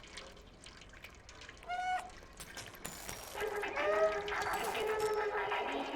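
Water pours and trickles as a sound effect in a cat video game, a steady wash building in the second half after some brief chirpy tones, with no talk over it.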